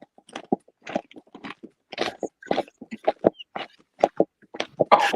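Someone bites and chews a crunchy black lump of food resembling coal, giving a close, steady series of sharp crunches and munching sounds with short pauses between them.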